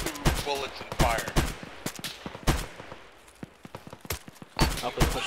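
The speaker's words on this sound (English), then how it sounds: "Yeah, we are engaging the bunker now." Rapid bursts of small-arms and machine-gun fire in an Arma combat scenario as a squad engages an enemy bunker, loud repeated volleys with short pauses between them and some radio chatter mixed in.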